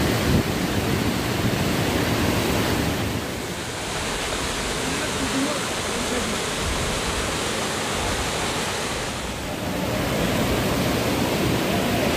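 Steady broadband rushing of a waterfall flowing somewhere in a Wayanad jungle, a continuous wash of falling water heard from a distance that dips slightly in level partway through and then swells back, with no voices.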